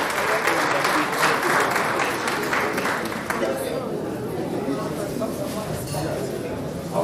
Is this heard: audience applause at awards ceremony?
yes